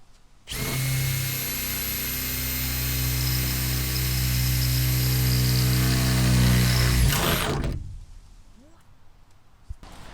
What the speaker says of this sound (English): drilled the 4 pilot holes